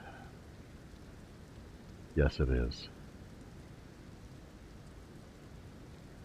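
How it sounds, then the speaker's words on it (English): Steady rain falls in a video game as a soft, even hiss across the whole stretch, with a person briefly speaking partway through. "it's a terrible day for rain"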